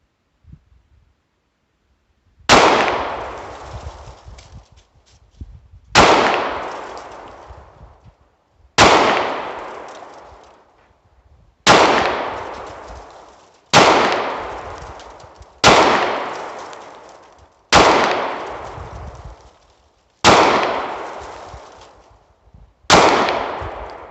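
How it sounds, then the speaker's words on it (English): A Smith & Wesson SD40VE pistol fires nine loud, sharp shots outdoors, spaced roughly every three seconds, each crack followed by a long decaying echo. "First shots."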